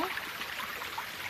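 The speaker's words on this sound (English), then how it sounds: "And look, this is the creek." Creek water flowing over large rocks in a forest, a steady broadband rush and trickle heard fairly close, constant without breaks and with no voices over it.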